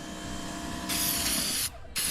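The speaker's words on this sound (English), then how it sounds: "So all we do is shake it up, spray it on," Aerosol can sprayed onto a part of a Mazda MX5 NC1, a loud close hiss starting partway through, briefly cut off near the end, then resuming.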